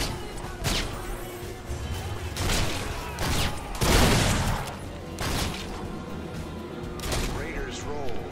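Towers shooting in the Heroes of the Storm video game, heavy repeated thumping blasts with rumbling booms amid busy game sounds, while a player talks in French over them.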